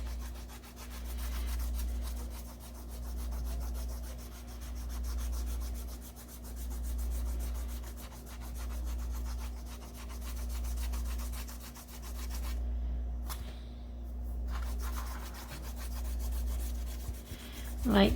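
A colored pencil, held on its side, shades lightly across paper in a fresh journal. Soft, close rubbing strokes repeat in a slow, even rhythm over a low steady hum.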